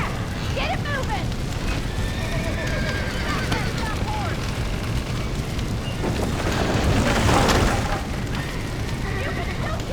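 A horse whinnies several times amid a busy Red Dead Redemption game soundscape, with rumbling effects and a loud swelling burst near the end, voices mixed in.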